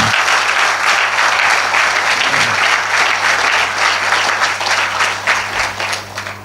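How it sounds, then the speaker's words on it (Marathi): A church audience bursts into dense, steady applause, loud and sustained, tapering slightly toward the end. "त्यांच्यासाठी एकदा टाळ्या झाल्या पाहिजेत"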